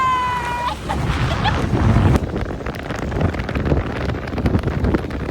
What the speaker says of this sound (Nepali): यस्तो छ हावा पानी परेर